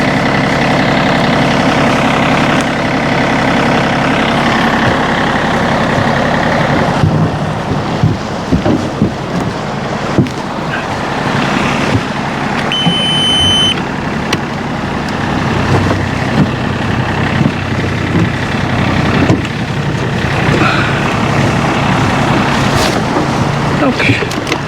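A farm tractor's engine idling near water, a steady low diesel drone with wind buffeting the microphone, running continuously throughout with slight rises and dips.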